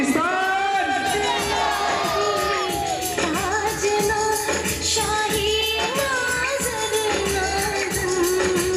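A stage drama audience cheers and shouts loudly and continuously, dense crowd noise with whoops and raised voices filling the whole stretch.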